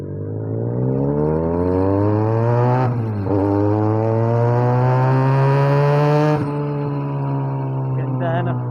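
A Benelli 302S motorcycle on a test drive through traffic revs up loudly with a rising, buzzy whine, dips twice as gears change, then climbs again close to the rider.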